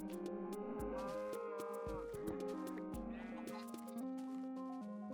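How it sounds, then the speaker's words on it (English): Cows in the Minecraft video game moo several times in a row, fairly loud and close, with drawn-out lowing calls overlapping one another. "Let's breed up some cows."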